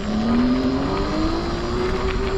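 A Delfast TOP 3.0 electric bike pulls away on throttle in class 2 mode. Its motor whine climbs smoothly and steadily in pitch over constant rushing wind and road noise.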